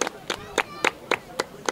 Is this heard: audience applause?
yes